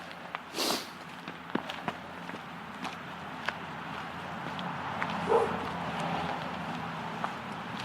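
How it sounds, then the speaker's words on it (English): A dog barks outdoors in a few scattered, fairly distant bursts over a steady background of footsteps and ambient noise. "I knew that dog's going to give us trouble"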